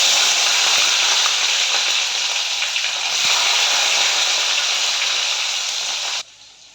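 Capsicum pieces fry in hot oil in a pan, giving off a loud, continuous crackling sizzle that holds steady and then cuts off abruptly near the end.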